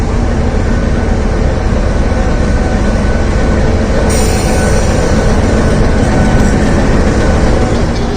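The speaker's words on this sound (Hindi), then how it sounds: "अभी हमने ट्रेन राइड करेंगे" Steady loud rumble of a Pakistan Railways passenger train in motion, hauled by an American GU20 engine, wheels clattering on the rails with continuous low engine drone throughout.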